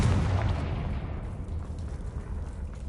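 A Confringo explosive spell cast in Hogwarts Legacy, a loud, sustained rumbling blast with dense low booming energy that gradually fades over a few seconds, with no talking over it.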